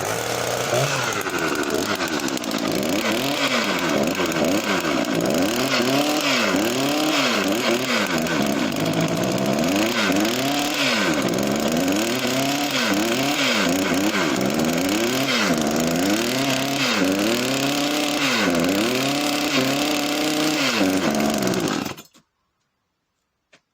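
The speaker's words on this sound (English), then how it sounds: "let me show you if she will fire" A Jonsered 670 chainsaw with a fresh spark plug fires up on choke and runs, its two-stroke engine revving up and down repeatedly in loud, rising and falling surges before cutting off abruptly near the end.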